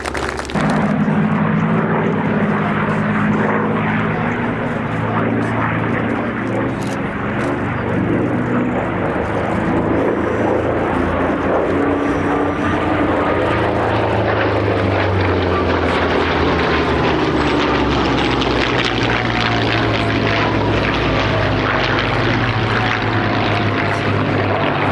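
A P-47 fighter plane flies past at Sywell Airshow at Sywell Aerodrome, its piston engine and propeller roaring loud and continuous for the whole stretch, the pitch sliding as it passes.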